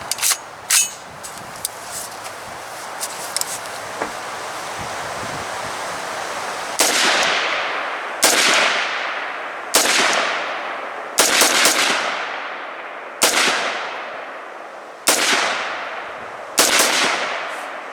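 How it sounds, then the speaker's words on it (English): A budget-built rifle upper fires ten rounds in a function test, sharp loud shots that come singly with pauses of about one to two seconds, each followed by a short ringing echo, outdoors with no talking. "just going to put a quick 10 rounds through this"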